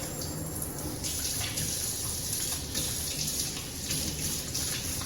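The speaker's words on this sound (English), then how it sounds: "wash my hands because it's slimy" Tap water runs steadily into a kitchen sink as hands are washed, a continuous close splashing flow with faint shifts as the hands move through the stream.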